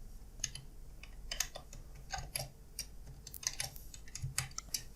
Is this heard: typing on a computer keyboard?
yes